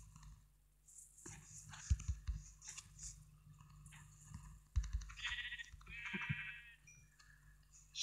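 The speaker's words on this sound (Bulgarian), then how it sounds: "Овце!" Sheep in the video game Minecraft bleat a couple of times, short and faint against a quiet background with soft game clicks.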